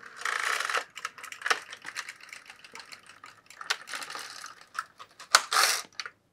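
The carriage of an LK150 knitting machine slides across a short row, giving close clattering rattles and swishing runs with small clicks between passes.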